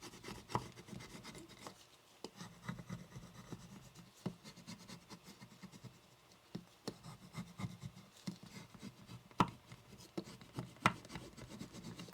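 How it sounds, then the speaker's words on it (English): A vinyl transfer is burnished onto a DIY wooden sign with short, close rubbing and scraping strokes in an uneven rhythm, with a few sharper scratches along the way and no voices. "now I can go ahead and burnish this in"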